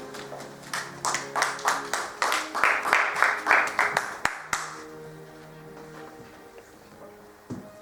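A church congregation claps rhythmically in an acclamation for the Lord, steady quick hand claps swelling for about four seconds before breaking off into a quieter room with a lone tap near the end.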